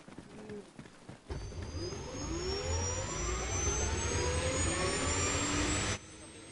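A helicopter in the video game Arma Reforger gives a loud jet-like engine roar that swells in after a quieter start, with rising whining tones, then drops off abruptly near the end.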